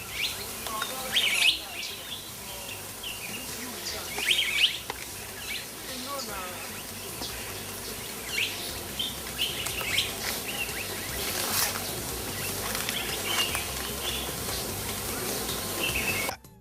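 Birds in a zoological garden chirp and call in scattered bursts over a steady buzzing insect-like background, with a narrator speaking throughout.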